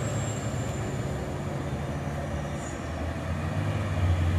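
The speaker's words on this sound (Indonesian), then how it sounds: "Truk tangkino menyalip bosku." Tanker trucks overtaking on the Bukit Kodok hill road give a steady, loud engine drone with low rumble, continuous and without voices.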